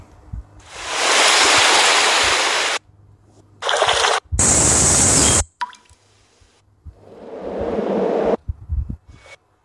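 Several separate water sounds from a stock effects library, among them broadband wash like ocean surf, rise and fall in turns with short gaps between them, loud and close with nobody talking.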